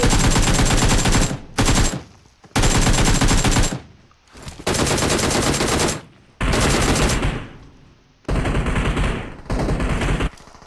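Automatic gunfire in PUBG Mobile, loud sustained bursts of rapid shots, about five long volleys separated by brief gaps, with no talk over them.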